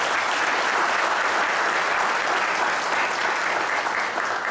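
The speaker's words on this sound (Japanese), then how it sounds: "皆さんの拍手によってアピール案は採択されました。" A rally audience opposing labour-law deregulation claps in approval of an appeal, a loud, even roar of many hands sustained without pause and without speech.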